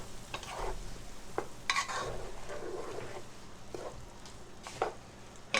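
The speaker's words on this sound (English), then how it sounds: "We want the mushrooms to cook down a little bit." Mushrooms frying in a pan for spaghetti sauce, a soft steady sizzle broken by several sharp stirring scrapes and clinks of a utensil against the pan, close and fairly quiet, with no talking.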